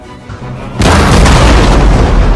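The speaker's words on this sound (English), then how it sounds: "Keep up the pressure by firing your cannons at the enemy militia." Cannon fire from a Total War: Empire battle aimed at enemy militia: quiet ambience, then one loud booming blast that swells into a dense, sustained rumble of artillery carrying on to the end.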